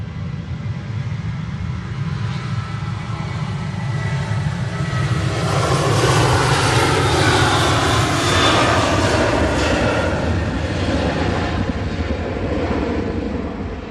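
A jet airliner's engines roar steadily at Manchester Airport, a loud, broadband rumble that swells toward the middle and then eases, heard alone without voices.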